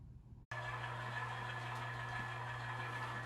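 A model train locomotive's sound module plays a steady idling diesel hum that starts abruptly and holds constant and fairly quiet throughout.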